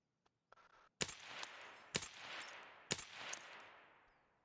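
Three loud gunshots from Escape from Tarkov, about a second apart, each a sharp crack with a trailing echo, fired from a window position in a first-person shooter match; a faint click precedes them.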